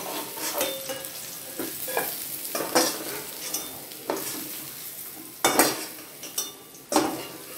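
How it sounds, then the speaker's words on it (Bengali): Vegetables for rice noodles fry in hot oil with a constant sizzling hiss, broken by repeated bursts of stirring and spatula scrapes against the pan that come every second or so. "এক এক করে সব আনাজগুলো আমি ভেজে নেব"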